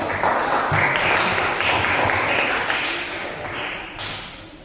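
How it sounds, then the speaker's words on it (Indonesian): Eighth-grade students applaud together in a classroom, a dense wash of many hands clapping close by that holds steady and then tapers slightly toward the end. "Oke, tepuk tangan dulu."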